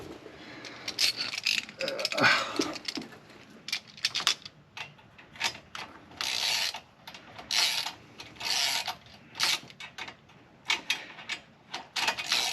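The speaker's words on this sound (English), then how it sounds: "I think I still have the ratchet down here" Half-inch ratchet wrench clicking in quick bursts while tightening a bolt on a turbo LT1 downpipe under a car, the bursts separated by short pauses, close and crisp.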